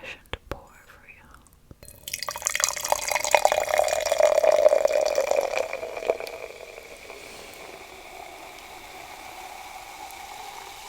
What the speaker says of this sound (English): let's have a nice old-fashioned pour for you